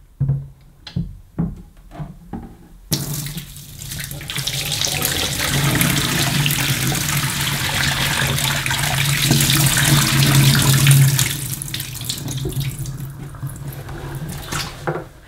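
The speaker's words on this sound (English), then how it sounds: "I'm going to pour it in the sink because it's easier to show you if there's any dirt" Dirty water from a Rug Doctor Mighty Pro X3 carpet washer tank poured into a sink, starting with a few sharp knocks and handling sounds, then a loud, continuous splashing gush that tapers off near the end.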